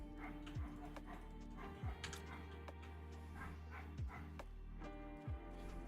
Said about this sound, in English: Can you hear it? Like, can you hear that dog?